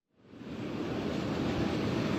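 Wet, windy weather outdoors during a live weather report, with a broad steady roar of wind and rain rising in quickly and holding loud and constant.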